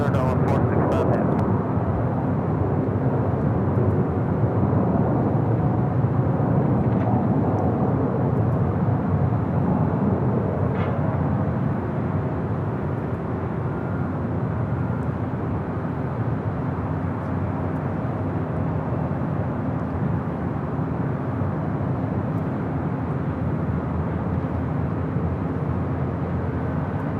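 A Delta heavy jet departs LAX, a loud continuous engine roar that is strongest at first and eases slightly as it climbs away, with talk faintly audible beneath.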